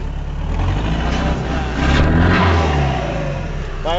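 Chevrolet S10 pickup with a 2.5 engine and original turbo, revved hard and loud up close, with a rising roar, a brief dip and then a sustained high run.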